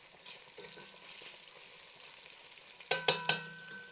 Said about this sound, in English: I'm going to let this sit in that oil to crisp up and brown.